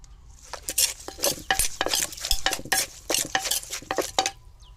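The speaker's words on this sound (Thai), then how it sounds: "ตำปลาครับผม" Fish is pounded in a mortar for a Thai papaya salad, a busy, uneven run of wooden thuds and clattering knocks at close range without talk.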